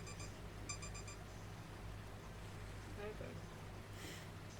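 A video playing on Steam gives off a few quick electronic beeps in rapid bursts near the start, quiet and thin over a steady low hum.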